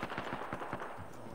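Rapid automatic gunfire rattles in a video game firefight, a quick burst of about eight evenly spaced shots at moderate distance, with no talk during it.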